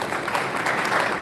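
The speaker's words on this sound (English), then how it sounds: "Please, a round of applause for this gentleman." Brief burst of audience applause at a mentorship summit in Kano, dense and steady before cutting off abruptly.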